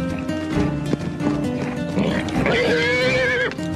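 A horse whinnies amid the clatter of hooves on a private property, the neigh rising high and wavering near the end over steady, busy movement noise.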